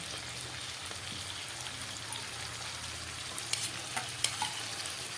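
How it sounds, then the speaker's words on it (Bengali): Green chilli, ginger and garlic paste frying in a pan, a continuous soft hissing sizzle with a few light scraping stirs toward the end, close and fairly quiet. "আদা রসুন কাঁচা লঙ্কাটা দিয়ে ভালো করে একটু কষিয়ে দিচ্ছি।"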